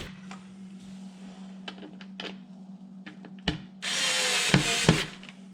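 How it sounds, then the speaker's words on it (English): Electric screwdriver driving screws into a garage cabinet panel, a low steady motor hum with light clicks and knocks, then a louder whirring burst near the end. "I get them started by hand, then I use my trusty electric screwdriver to secure them in."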